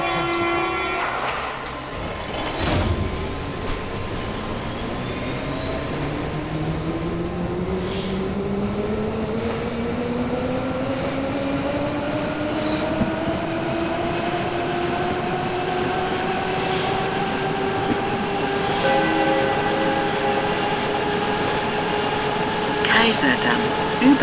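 Berlin U-Bahn U2 subway train running between stations: a continuous rumbling ride with rising and falling motor whine as it accelerates, wheel and track noise throughout, heard from inside the car, steady and moderately loud.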